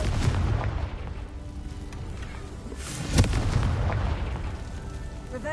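A fire-blast spell goes off in Hogwarts Legacy as a rumbling explosion, with a sharp boom near the three-second mark over a continuous roar of game noise.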